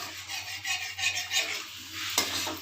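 Eggplant fritters (beguni) frying in hot oil, a steady close crackling sizzle with soft stirring and a brief utensil clink near the end.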